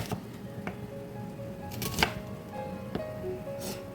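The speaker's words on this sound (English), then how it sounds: "Then go ahead and cut the onion into smaller pieces." A knife chopping onions into smaller pieces on a cutting board, with sparse, sharp cuts spaced irregularly and a few clearer strokes standing out over a quiet kitchen background.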